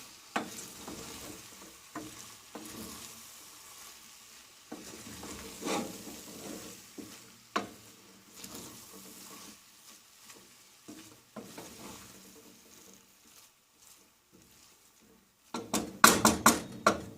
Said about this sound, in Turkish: ve güzelce karıştıracağım.